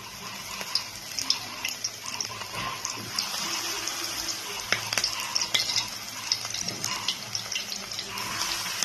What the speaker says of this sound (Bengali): পকোড়াগুলোকে আমি ভেজে নিচ্ছি।